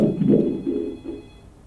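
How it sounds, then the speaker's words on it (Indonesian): A telephone on a call-in radio show gives a short electronic ring with a steady tone, near and clear, and no talk over it. "kita angkat telepon lagi"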